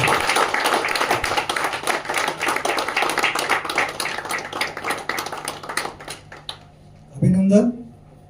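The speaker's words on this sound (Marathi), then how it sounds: "टाळ्या वाजवायला कंजूशी करून घ्या" Audience clapping at a sports association annual general meeting and awards ceremony, a dense burst of applause that thins out and fades over several seconds, followed by a brief voice once it dies down.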